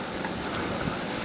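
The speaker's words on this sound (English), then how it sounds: "I'll go ahead and water those pots over there" A garden hose sprays water onto plant pots, a brief steady hiss and patter like rain on a surface, close and even.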